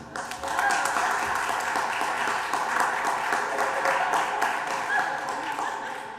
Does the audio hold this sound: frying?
no